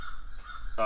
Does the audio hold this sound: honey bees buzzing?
no